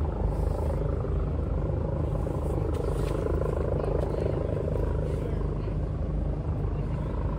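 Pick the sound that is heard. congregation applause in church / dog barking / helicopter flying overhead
helicopter flying overhead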